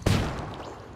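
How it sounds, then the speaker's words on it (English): A flashbang grenade bursts in the tactical shooter Ghost Recon Breakpoint, one sharp loud bang followed by a fading rumbling tail. "Tossing a flashbang."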